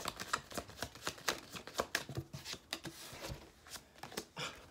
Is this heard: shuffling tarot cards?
yes